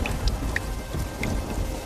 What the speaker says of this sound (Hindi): ये बारिश का सिलसिला यूं ही कुछ दिन तक जारी रहता है।